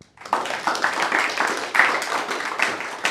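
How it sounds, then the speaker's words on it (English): A lecture audience claps in sustained applause at the close of a talk on central banking, a dense, steady patter of many hands rising quickly and holding at an even level throughout. "I think that deserves another round of applause."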